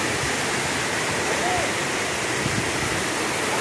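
Steady broadband rush of the Palchuram waterfall in Wayanad, a continuous near roar of falling water with low murmurs of voices faintly beneath it.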